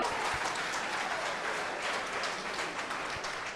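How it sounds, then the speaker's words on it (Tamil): An audience at a Tamil stage talk on marriage and women breaks into thick, continuous applause, many hands clapping together at an even loudness throughout the short stretch with no speech on top. "பாருங்க கைத்தட்டல் எவ்வளவு இருக்குன்னு"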